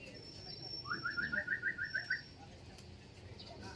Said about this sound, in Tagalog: Pumasok na yung ibon ulit.